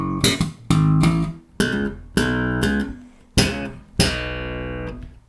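Slap bass riff with a popped octave and a slide, landing on a B octave: six sharp percussive attacks in an uneven groove, each note cut short before the next, played close and alone.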